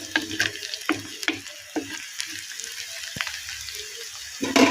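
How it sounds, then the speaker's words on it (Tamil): Onions frying in a pan for coconut (thengai) chutney, a soft continuous sizzle broken by repeated sharp spoon clatters and scrapes against the pan, close and moderately loud, with no speech. "வெங்காயம் நல்லா வதங்கி வரட்டோங்க அப்போ தான் சட்னி நல்லா டேஸ்ட்டாக இருக்கும்"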